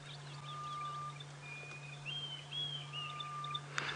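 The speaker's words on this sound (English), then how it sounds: "I can hear a Diedrich cuckoo." A Diederik cuckoo calls at moderate distance during a sunrise safari drive, thin whistled notes repeating over a steady low engine hum.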